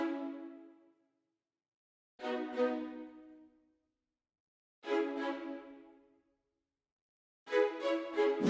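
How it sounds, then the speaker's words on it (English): Short staccato string chords from a free orchestral VST plugin, played in four separated bursts with silent gaps between them, each stab rich and decaying quickly, alone with no talking. "These are like very short staccato strings that are there"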